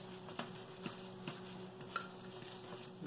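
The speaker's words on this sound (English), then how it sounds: "Stir that around and get that nice and moist." A fork stirs spaghetti squash muffin batter in a bowl, making soft wet squelches and clicking taps at a steady rhythm, close and quiet.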